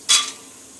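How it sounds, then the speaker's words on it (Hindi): Peanuts dropped into hot ghee give one short, bright sizzling burst that fades quickly, close and fairly loud with no talking. "इसको हम अच्छे से फ्राई करेंगे"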